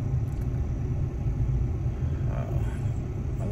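Steady low rumble of passing car traffic, continuous and fairly loud throughout with no gaps, heard from a roadside with no voices.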